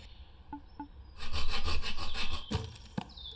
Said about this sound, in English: Lots of like sawing and hammering noises that I don't really know where they come from